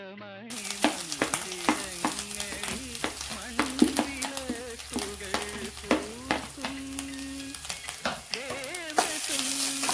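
Grated coconut with dried red chillies and curry leaves stirred in a frying pan for Onam sadya erissery, a steady sizzle broken by repeated scraping strokes of a spoon, close and continuous, with faint background music and no talk.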